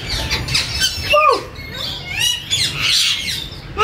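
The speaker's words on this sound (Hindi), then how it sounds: "तोते" Parrots squawking at a large zoo in Lahore, harsh rising and falling calls repeating close by over a steady background murmur of crowd noise.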